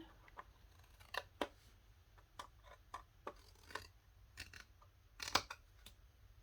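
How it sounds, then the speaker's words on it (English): Scissors snip a wedge from a scored paper gift box, sharp separate clicks and crisp cuts spaced unevenly, close and quiet against a faint low hum, with no talking. "And then you're going to cut a wedge out of each side."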